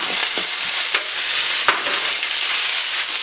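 Chicken gizzards frying in about a tablespoon of hot oil, a close, dense crackling sizzle punctuated by a few sharp pops and the scrape of stirring, with no talking.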